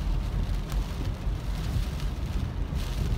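Steady heavy rain pours down during a huge flood at Big Bear, a dense continuous hiss with low rumbling wind noise on the microphone, loud and unbroken throughout.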